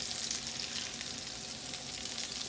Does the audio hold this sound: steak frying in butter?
yes